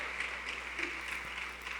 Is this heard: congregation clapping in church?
yes